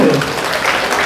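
A hospital auditorium audience applauds a guest speaker, a short burst of dense clapping close and fairly loud, with a few voices mixed in.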